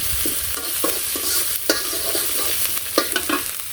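A spatula scrapes and stirs salt, turmeric, chili and mixed spice powders through hot oil in a frying pan, with repeated irregular scraping strokes over a steady close sizzle, no voices.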